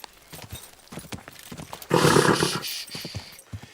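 Horse hooves clip-clop at a steady trot in the medieval game Kingdom Come: Deliverance II, growing louder and denser midway before easing off, with a brief whinny-like rise among the beats.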